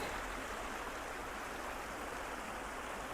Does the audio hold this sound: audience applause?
no